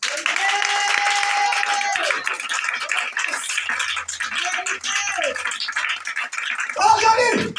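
Church congregation applauding during a sermon, a dense wash of clapping that runs continuously and stays loud, with voices calling out and talking over it.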